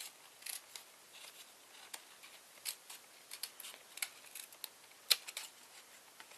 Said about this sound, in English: I'm gonna cut a little more right there.